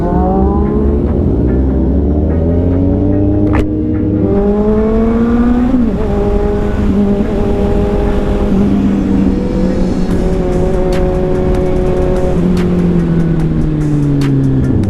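A big bike motorcycle engine drones loud and close while riding, its pitch rising and falling through gear changes and throttle shifts, with wind rush underneath.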